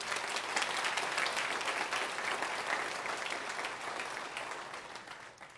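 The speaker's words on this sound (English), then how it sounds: "Let's give them a round of applause." A conference audience gives a steady round of applause, dense and continuous, slowly fading toward the end with no talking over it.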